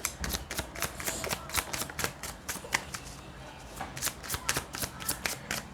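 Tarot cards are shuffled continuously during a reading, a dense, fast, papery riffle of snapping card edges that runs close up and unbroken for several seconds.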